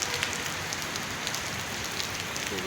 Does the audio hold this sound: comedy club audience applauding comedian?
no